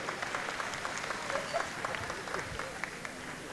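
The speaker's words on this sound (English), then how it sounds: "another big round of applause for our performance today" Applause from a gala dinner audience after a performance, a dense, fairly faint patter of many hands clapping throughout, with crowd noise blended in.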